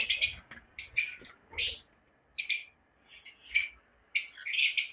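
Lovebirds at a bird farm chirp in short, high, scratchy bursts, several calls overlapping in irregular clusters separated by brief silences, close and moderately loud with no talking.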